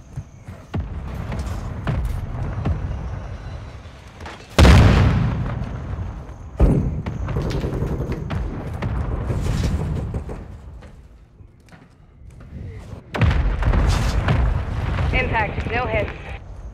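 Heavy artillery explosions from a called-in fire mission in Call of Duty Modern Warfare II, several loud booming blasts with rumbling aftermath over continuous battle noise, with radio voices speaking in between.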